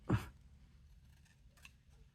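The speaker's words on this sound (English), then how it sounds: "now I'm going to get my scissors and I'm just going to kind of clean some of this up where it didn't cut the best" A single close, crisp snip of scissors trimming paper cardstock, with a couple of faint rustles after it in a quiet room.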